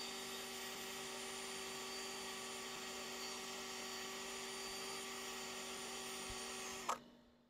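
A drill spinning sandpaper against wooden measuring cups turning on a lathe: a steady high whine with tonal hum, constant and close, cutting off abruptly near the end.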